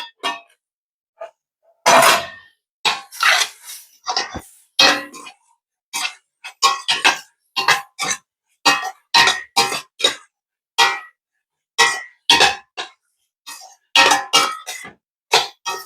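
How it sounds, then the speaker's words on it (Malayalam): A spoon stirs food in a metal cooking pot, a string of irregular scraping clinks and knocks, some quick and clustered, others spaced apart, close and fairly loud against near silence. "നമുക്കിതൊന്ന് ഇളക്കി കൊടുക്കാം."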